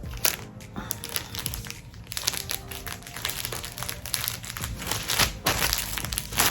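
Close, continuous crinkling of tape being handled and pressed onto a printed Valentine's Day onesie, with busy rustling and crackling throughout and no talk.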